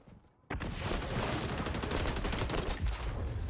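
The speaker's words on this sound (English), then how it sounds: "Oh, that's a grenade." A grenade goes off in Call of Duty: a sudden loud blast after a brief quiet moment, followed by a dense roar of debris and gunfire that holds steady for several seconds.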